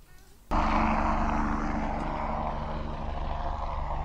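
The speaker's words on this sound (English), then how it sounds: "they're flying helicopters in the background doing some kind of training" Helicopters flying training runs near a lake fill the air with a steady, loud rotor and engine drone that starts abruptly and stays constant, with no talk over it.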